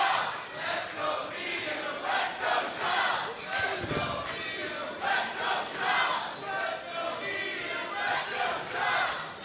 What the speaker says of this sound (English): Listen to the crowd, they're loving it.